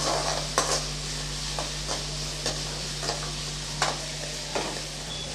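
Onion and garlic sautéing in a pan for a village-style dry fish curry: a constant low sizzle and hum with a handful of spaced scraping stir strokes, close and steady, no voices.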